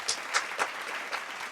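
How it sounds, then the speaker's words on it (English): A person claps their hands a few times, with sharp single claps spaced unevenly across a second and a half. They sound close and moderately loud against a quiet background, with no talking. "I want to give you a hand clap off the phone"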